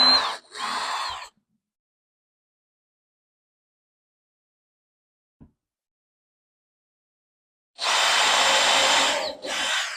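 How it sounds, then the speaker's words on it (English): A power drill whirs in two bursts while drilling a small pilot hole for a hook, a short one at the start and a longer one near the end, separated by silence and a single faint tap. "I'm just going to drill a small pilot hole that I can screw my hook into."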